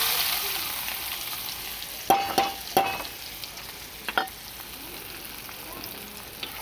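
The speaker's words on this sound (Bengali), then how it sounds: "এই যে ওদিকে তেল গরম হয়ে গেছে, এবার আমি পেঁয়াজগুলো ছেড়ে দেবো।" Sliced onions dropped into hot oil for a tilapia curry crackle and sizzle in a few sharp bursts close by, then settle into a quieter, steady frying hiss.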